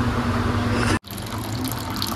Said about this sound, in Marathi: बघू जरा पाणी घेऊया किती पाहिजे